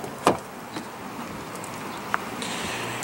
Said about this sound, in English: When you lock the vehicle, the mirrors will fold in.